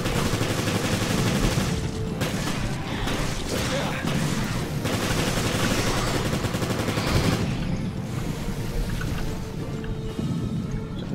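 Sustained rapid gunfire in the Resident Evil Revelations video game, dense machine-gun-like bursts running almost without pause, loud and close, with game effects mixed underneath.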